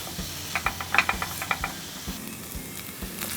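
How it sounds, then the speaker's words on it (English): Vegetables sauté in a pan with a soft, steady sizzle and hiss, punctuated by a series of light clicks and stirring taps near the middle, fairly quiet and close with no talking. "We wanna saute these for about 5 or 6 minutes, get them nice and tenderized, and start that caramelization process."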